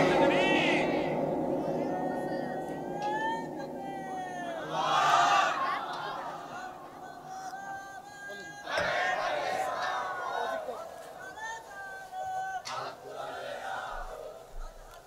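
A large crowd at an outdoor religious gathering in Khulna roars a loud unified takbir response, with sustained shouting that rises and falls in waves and a few individual voices calling out above it.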